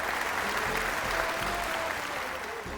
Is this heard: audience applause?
yes